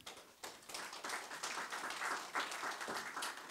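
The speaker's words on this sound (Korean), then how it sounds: "큰 박수 보내주십시오." An audience at a jobs forum breaks into steady applause, dense overlapping hand claps that hold at an even level throughout with no voices over them.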